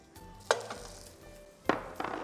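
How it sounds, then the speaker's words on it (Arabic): Chicken pieces frying in ghee in a pan, a steady low sizzle broken by two sharp clatters of a utensil stirring or turning the pieces. "كمان حارجع قلي."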